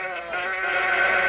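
A sheep bleat sound effect: one wavering, nasal bleat held loud and close for just over a second, with no other sound.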